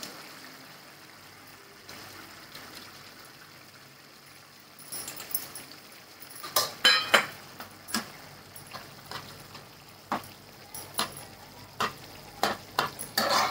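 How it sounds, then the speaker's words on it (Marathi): Egg bhurji gravy cooks in a pan, a low background sizzle that gives way to repeated sharp spoon clicks and scrapes as the mixture is stirred, close and irregular. "आता याच्यामध्ये भुर्जी ॲड करायची आणि 2 ते 3 मिनटं चांगलं शिजू द्यायचं"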